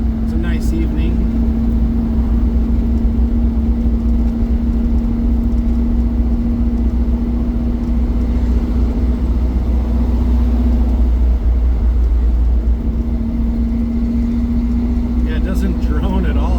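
Steady low engine and exhaust drone from a 1963.5 Ford Galaxie with a new exhaust cruising at about 2,000 RPM in fourth gear, continuous and even, with a faint tonal hum throughout.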